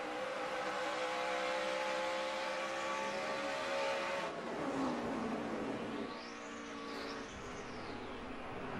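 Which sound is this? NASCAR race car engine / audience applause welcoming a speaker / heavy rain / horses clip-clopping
NASCAR race car engine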